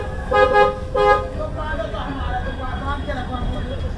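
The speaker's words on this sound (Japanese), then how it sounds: "渋滞がすごい" Car horns honking in a heavy traffic jam in India, two loud toots up close followed by a dense rumble of idling vehicles and more distant horns, with voices underneath.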